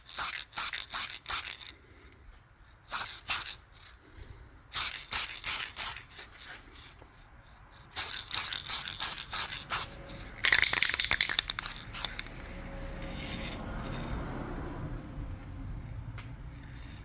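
Aerosol spray can applying the fifth and final coat of paint to a '79 EVH Bumblebee-style guitar body, heard as repeated short hissing bursts in quick clusters, then a longer continuous hiss that fades to a steady low wash.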